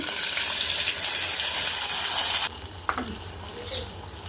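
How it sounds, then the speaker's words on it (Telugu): Loud crackling sizzle of lentils dropped into hot oil for tempering, which suddenly quiets partway through to a softer frying hiss with a few light clinks. "ఈ తాలింపు వచ్చి ఈ పప్పులు వేసుకుంటున్నాను"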